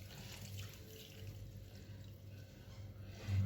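Milk poured into a dish for Umm Ali dessert, a steady soft liquid stream at close range that runs continuously and alone, with a slight splash at the end.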